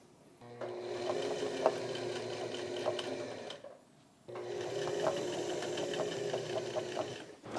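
A sewing machine hems flat shirt sleeves in two steady running bursts, close and clear, separated by a short pause, with no talking.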